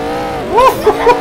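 A Porsche sports car engine in the Roblox game Mad City revs in short rising and falling bursts, loud and close, with no talk.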